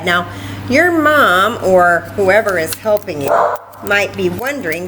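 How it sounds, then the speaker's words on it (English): A pet dog barks in short bursts in a home while someone talks over it, the yips mixed under and between her words. "he's barking."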